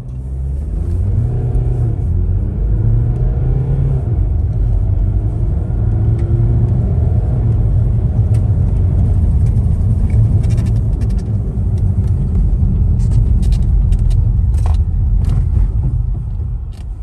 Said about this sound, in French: Ça vous donne pas envie de faire un petit test d'accélération freinage?